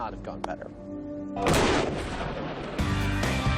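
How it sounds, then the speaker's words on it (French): An explosion set off on the MythBusters set: a voice and light clatter come first, then a loud, heavy blast erupts and rumbles, followed by a second booming burst near the end. "on voit bien sur le ralenti que Jamie déclenche l'explosion au moment où je commence à sauter"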